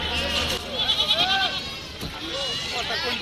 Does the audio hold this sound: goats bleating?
yes